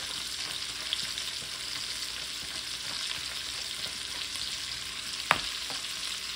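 Half a large onion frying with Conecuh sausage in a pan, a steady broadband sizzle throughout with faint scrapes and a sharp clack near the end, no talk.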